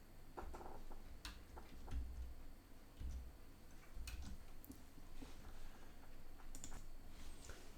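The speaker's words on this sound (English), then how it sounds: "I type in here" Keystrokes on a computer keyboard come as scattered, faint clicks in short bursts over a low background hum.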